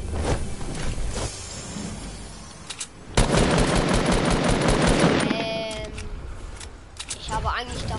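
Bursts of automatic gunfire and single shots sound from a Fortnite match on PS4 Pro. The rapid volleys are loud and clustered, and a player's voice talks between them.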